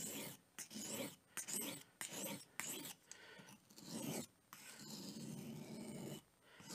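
A short pocket knife is drawn across a sharpening stone from base to tip, giving quiet, rhythmic rasping strokes separated by brief pauses.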